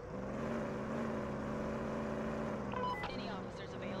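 Steady low rumble of a five-cylinder bus engine in Police Simulator, droning evenly throughout, with a brief burst of other game noise near the end and voices faintly present.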